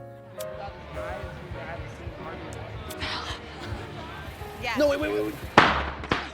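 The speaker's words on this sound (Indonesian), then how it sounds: "memasukkan sebuah petasan ke dalam mobil tersebut" Crowd chatter and murmuring voices build before a single sharp firecracker bang cracks out loudly inside a car near the end.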